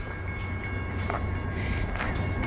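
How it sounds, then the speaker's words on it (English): Norfolk Southern train approaching in Wyoming, a steady broad rumble of rolling cars with faint tonal hums, continuous and fairly loud outdoors with no voices. "Looks like we got another train coming."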